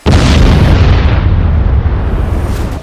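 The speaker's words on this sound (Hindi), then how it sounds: "इजराइल के बेगलशेवा में हुआ मिसाइल अटैक देखिए।" A missile attack explosion in Beersheba, Israel: one loud, deep boom that bursts in suddenly, then rumbles and slowly fades over a few seconds, with no voices.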